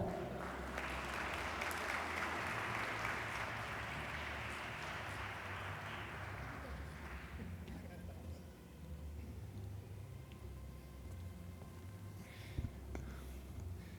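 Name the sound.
audience applause at a summit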